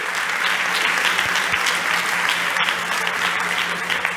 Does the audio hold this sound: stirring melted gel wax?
no